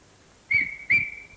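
Two short rising whistles from a person, close and clear, the second following about half a second after the first, with no talking.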